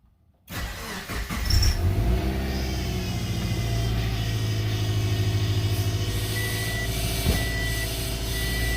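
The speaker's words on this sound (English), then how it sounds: "I'm going to go ahead and fire her up, see how she's running" A 2007 Subaru Impreza with a newly fitted power steering pump cranks and starts, then settles into a steady close idle with a faint periodic high beep or whine above the engine.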